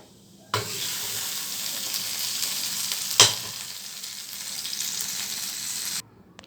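Fried cashews and raisins being stirred into a pot of payasam, a steady close sizzle broken by one sharp clink of a spoon against the vessel, with no talking.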